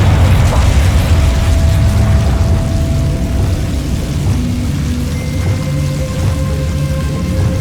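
The Confringo blasting spell in the Hogwarts Legacy video game, a loud booming explosion that bursts at the start and trails into a rumbling, crackling decay with faint tonal game effects, heard alone.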